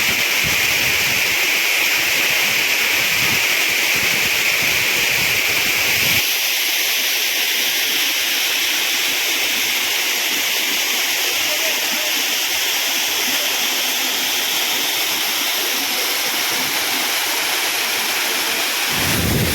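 Areekal waterfalls in Pampakuda, Muvattupuzha, Kerala, pour with a loud, continuous roar of falling water that fills the scene, heard up close.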